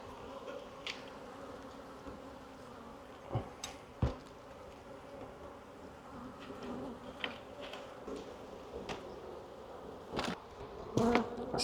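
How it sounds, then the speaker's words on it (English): Honeybees hum steadily around exposed hive frames, a soft continuous buzz broken by scattered sharp knocks and clicks. "That's those bees up in there"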